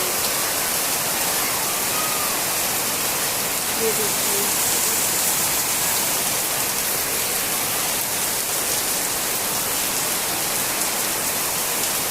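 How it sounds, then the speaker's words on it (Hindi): Heavy rain pours steadily, heard from a rooftop in a dense, loud, unbroken hiss, while someone speaks briefly over it. "आज सुबह से बारिश बहुत हो रही है।"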